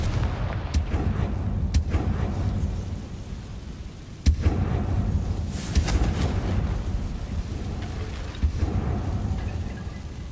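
Confringo fire spell explosions in Hogwarts Legacy, heavy booming blasts at intervals, with a sharp loud crack near the middle and rumbling tails between them, no talking.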